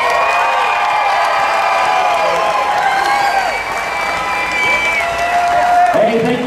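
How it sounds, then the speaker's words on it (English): A rally crowd at a Stand Up For Texas event applauds and cheers to welcome a speaker, loud, sustained clapping with whoops and shouts while voices carry over the top. "Please give a warm round of applause for Mr."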